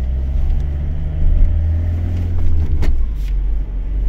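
A Fiat Ulysse 2.0 JTD van engine pulls under throttle with a low, loud, sustained rumble heard from inside the cabin, rising slightly in the middle and steady throughout.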